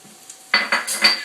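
Onions and bacon fry in a pan while being stirred, with a few sharp clinks and scrapes of a utensil against the pan over a faint sizzle.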